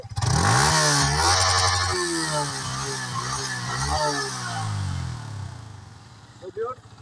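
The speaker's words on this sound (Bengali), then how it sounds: "বাইক তো রেসিং বাইকই সাউন্ড শুনে তো অবাক" A racing motorcycle engine revs hard several times, rising and falling in pitch with a loud, rough roar close by, then settles to a lower idle.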